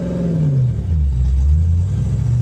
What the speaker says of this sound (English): You can hear that exhaust leak clear as day.